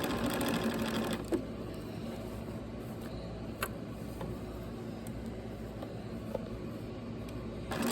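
A sewing machine runs a regular 2.5-length stitch through fabric for a girl's dress, producing a close, continuous mechanical whir with a few small clicks and no pauses.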